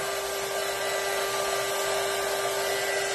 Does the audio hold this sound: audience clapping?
no